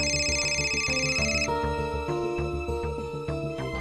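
A melodic electronic ringtone plays continuously, a repeating tune of bright tones with a steady beat, loud and close, with no one talking.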